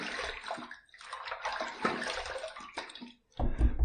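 Tap water splashing and rinsing during a wet shave with a copper adjustable safety razor, a broad rushing wash that breaks off briefly before a heavier splash resumes.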